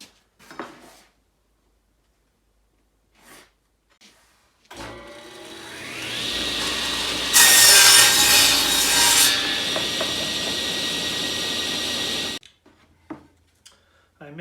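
A power saw cuts a wooden board on an angled block for the sloped roof of a screech owl nest box. The motor spins up into a loud, steady cutting whine that peaks midway and then stops, with faint handling noises around it.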